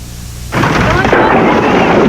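A loud, close rumble of thunder breaks into steady heavy rain, with laundry hung out to dry nearby.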